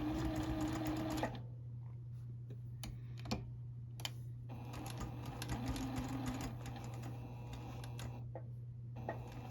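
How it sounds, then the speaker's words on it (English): Sewing machine stitching binding along the corner of a quilt, a quiet rapid mechanical whirr in short bursts broken by brief pauses and small clicks, close and alone. "put it under my machine and just sew about halfway along"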